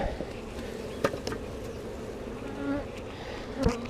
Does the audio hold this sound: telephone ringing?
no